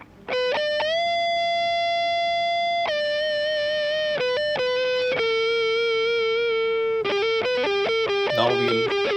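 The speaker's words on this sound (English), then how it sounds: "Now let's hear the neck pickup with distortion" A distorted electric guitar, a PRS Ted McCarty DC245 on its neck pickup, plays sustained notes and short picked phrases, warm and saturated, loud and close with no talking.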